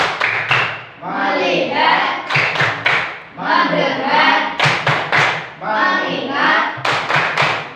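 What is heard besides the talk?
class clapping rhythm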